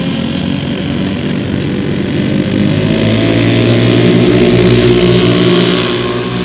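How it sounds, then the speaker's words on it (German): Four engines of a radio-controlled model Hawker Siddeley Heron run together, a loud, steady multi-engine drone that climbs in pitch and swells as they rev up in sync, with no talking. "sehr schönen Ton werden Sie jetzt auch hören, wie die vier Motoren synchron aufgeführt werden"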